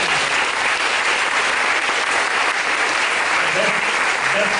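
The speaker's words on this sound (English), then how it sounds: "Let's give all the presenters one more big applause." Sustained, loud applause from a conference audience for the presenters of the ALIFE 2018 lightning session, a dense, even roar of clapping that carries on throughout without a break.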